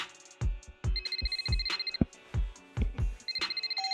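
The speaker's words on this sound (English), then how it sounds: "the phone rang" A phone rings in a video game: an electronic ringtone pulses in rapid bursts, with high beeping tones over thumping low pulses, loud and continuous, with no voices.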